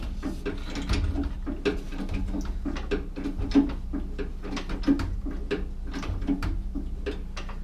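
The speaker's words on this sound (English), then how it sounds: "Just went up another inch with the bottle jack." A bottle jack raising the back of a 2002 expedition vehicle with a 4BT engine, giving a steady run of close mechanical clicks and ratcheting pumps under a low background hum, with no talk.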